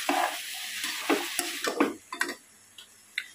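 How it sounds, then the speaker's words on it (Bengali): Food sautéed in a pan over a high gas flame: a close, moderate sizzle that thins out after a couple of seconds, punctuated by several crisp spatula scrapes and taps against the pan, with no one speaking. "গ্যাসটা জোরে করে একটু কষিয়ে নেবো"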